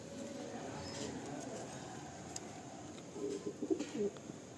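A Madrasi pigeon in a loft gives a few soft, low coos near the end, close and gentle over a quiet background hum.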